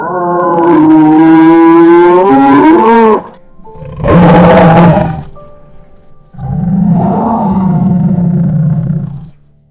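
Three loud, deep bellowing calls from a buffalo, each lasting a couple of seconds, separated by short pauses, close and forceful.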